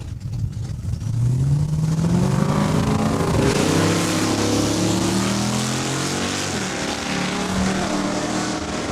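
Drag race cars roar off the start line at Saskatchewan International Raceway, loud engine notes climbing steeply in pitch and holding a dense, sustained roar with no talking.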